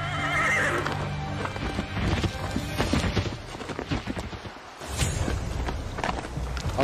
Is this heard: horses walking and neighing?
yes